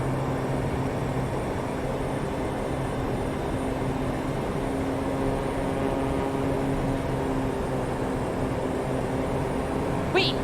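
Engine roar from an airliner with thrust reversers engaged in Microsoft Flight Simulator, a steady, even drone with a faint hum that holds without a break throughout.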